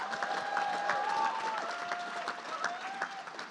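An audience at an art gallery panel talk applauds to welcome a panelist, steady close clapping throughout with a few faint whoops.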